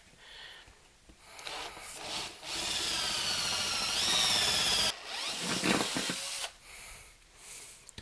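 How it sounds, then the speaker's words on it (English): A power drill bores holes through the metal chassis of a DIY phono preamp, grinding steadily for a couple of seconds, pausing, then cutting again in shorter bursts with quiet gaps between. "So let's drill these 3 holes out."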